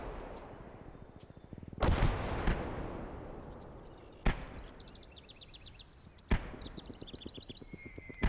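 Artillery shells fire in a WWII strategy game, with a sharp loud boom near two seconds, a softer thump after it, then two more blasts near four and six seconds. The blasts sit over faint background ambience.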